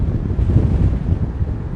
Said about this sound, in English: You see that gust of wind just hit him.